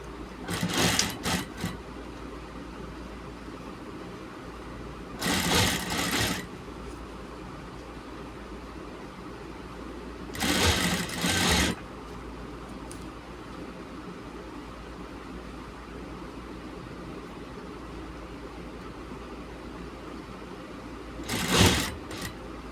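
A sewing machine runs in four short bursts of rapid stitching along a gents' shirt placket, each lasting about a second, separated by long quiet pauses, close and clear.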